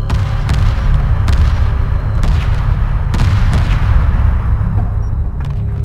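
Weapons fire during a space battle in the strategy game Homeworld Remastered: repeated heavy booms and sharp cannon-like blasts at irregular intervals over a dense, loud rumbling background.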